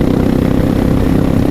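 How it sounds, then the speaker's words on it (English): Suzuki Boulevard S40 motorcycle fitted with an aftermarket exhaust, a loud, steady low engine drone heard from the rider's position, continuous and unbroken throughout. "This is the Suzuki Boulevard S40. It's kind of loud."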